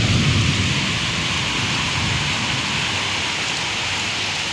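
Heavy monsoon rain pours steadily in the Jajpur area, a dense continuous hiss of downpour with a low rumble of thunder swelling at the start, loud and enveloping with no voices.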